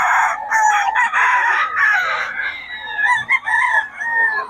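A lemon sweater gamefowl rooster crows near and loud at a Bocaue farm, a long wavering call that breaks into a second shorter crow toward the end.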